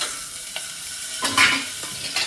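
Tempering spices fry in a pressure cooker, giving a steady close sizzle with a few brief clinks of a stirring utensil against the metal.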